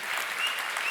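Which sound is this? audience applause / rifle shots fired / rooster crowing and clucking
audience applause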